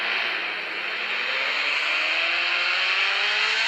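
A modified Tofaş Doğan car in a driving simulator game revs hard, its loud, continuous engine whine climbing steadily in pitch from start to finish with no one speaking.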